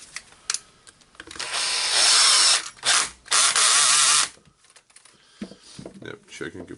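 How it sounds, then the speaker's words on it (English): Hilti TE 706-AVR power tool driving in a screw: a loud whirring burst over about two seconds, a short stop, then another burst, with quiet clicks and handling noise around it. "Just screwing in the screw"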